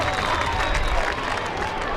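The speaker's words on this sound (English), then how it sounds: "Generous round of applause for him." A crowd at a 2003 All-Ireland Minor Gaelic football final replay between Laois and Dublin gives a burst of applause, a broad, distant wash of clapping with general stadium crowd noise.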